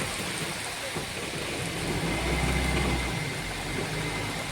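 Steady, dense hiss of heavy monsoon rain pouring down in Kerala, with a low rumble swelling briefly in the middle.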